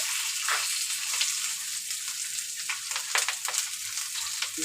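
Koi fish fry in hot oil with green chillies for a dopeyaja, giving a steady close sizzle broken by bursts of crackle as the pieces are turned over in the pan.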